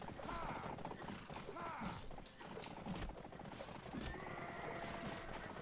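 A horse neighs repeatedly in the Mount and Blade Warband video game, with whinnies rising over a busy mix of game battle noise, at moderate level throughout.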